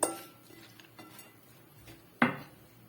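Fried potato cubes and chopped onion filling mixed in a bowl, with close clinks of a utensil against the dish, a sharp knock at the start and another near the end, soft scraping between.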